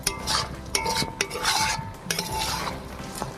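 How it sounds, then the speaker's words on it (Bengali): Garam masala is stirred into a bottle gourd and egg curry, making steady close scraping and clattering of a spoon against the pot with a few sharper knocks and a soft background hum. "ভালো করে গরম মশলাটা রেস্টের সঙ্গে ভালো করে মিশিয়ে নিচ্ছি"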